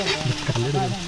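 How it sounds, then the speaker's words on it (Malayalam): Ingredients for a Kerala-style country chicken varutharachathu fry in hot coconut oil with a steady close sizzle, while a voice speaks over it. "അപ്പോൾ നല്ലോണം വെളിച്ചെണ്ണയിൽ ചൂടായ വെളിച്ചെണ്ണയിലും ഫുള്ള് സാധനങ്ങൾ നല്ലോണം ഫ്രൈ ആയിട്ട് വന്നുകൊണ്ടിരിക്കുക കേട്ടോ"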